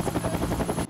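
A helicopter in an Indian film scene gives a loud, close rotor throb with rapid rhythmic chopping pulses over a whining engine tone, cutting off abruptly after about a second.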